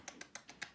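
Five light, sharp clicks in an uneven rhythm, like small hard heels tapping across a smooth floor nearby.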